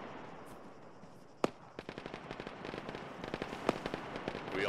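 Gunfire in the military video game Arma during a ShackTac squad firefight: a loud sharp shot, then a steady run of rapid, crackling rifle and machine-gun bursts at mid distance over a constant background rumble.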